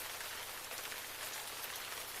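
Heavy rain pours down in a steady, dense hiss of countless drops, loud and unbroken throughout with no voices.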